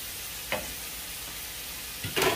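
Cut vegetables fry in a pan with a steady soft sizzle, broken by a couple of brief stirring scrapes, close and fairly quiet, without talk.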